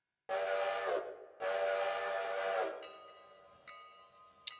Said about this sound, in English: we just need to blow the whistle